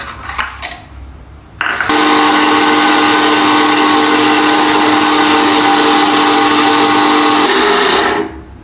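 A blender mixing mayonnaise with vinegar switches on after a few faint clinks and runs as a loud, steady high-pitched whine for about six seconds before winding down.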